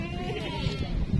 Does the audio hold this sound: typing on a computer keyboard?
no